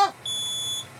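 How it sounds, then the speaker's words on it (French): A smoke alarm set off by cooking gives one loud, high, steady beep lasting about half a second, alone after a brief noise at the start. "C'est l'alarme, ouvrez les fenêtres! C'est l'alerte fumée."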